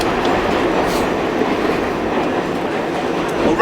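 A New York A train subway car rolls along steadily with a loud, continuous rumble and rattling clatter of wheels on track, heard from inside the moving car.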